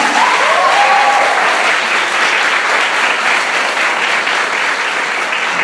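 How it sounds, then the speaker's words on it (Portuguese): A church congregation breaks into loud, sustained applause filling the room, a dense even wash of clapping lasting several seconds, with a faint voice briefly heard at the start. "Aplaude esse milagre em nome de Jesus."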